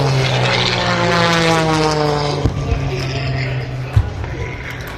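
A propeller airplane at EAA AirVenture Oshkosh drones loudly overhead, its steady engine hum sweeping slightly in pitch as it passes, with a couple of sharp knocks and a voice talking under the noise.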